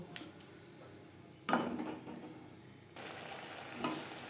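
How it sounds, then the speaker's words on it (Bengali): Ground spices with a splash of water fry in a pan over low to medium flame for a Bengali doi katla, a faint steady sizzle broken by a few scraping stirs. "লো টু মিডিয়াম ফ্লেমে তিন চার মিনিট মশলা বেশ ভালো করে কষিয়ে নেব"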